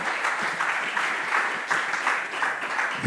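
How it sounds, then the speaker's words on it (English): An audience at an African education summit gives a round of applause, a thick, loud, even rush of clapping filling the short moment without pause. "Can we please give another hand of applause there?"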